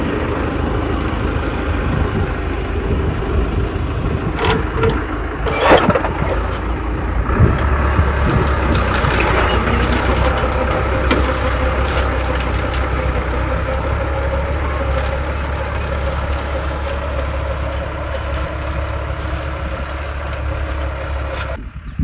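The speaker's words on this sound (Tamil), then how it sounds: "இந்த 12 டிஸ்க் கலப்பை ஓட்டிக்கிட்டு இருக்கிறாங்க" A tractor pulls a 12-disc plough through a grassy field, its engine a steady low drone that runs continuously at moderate distance, with a few brief clanks, and nobody speaks.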